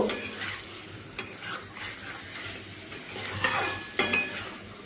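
Masala and potatoes are stirred and fried in a pan, with a soft sizzle under intermittent spoon scrapes and a few sharper clinks against the metal, close and moderately quiet.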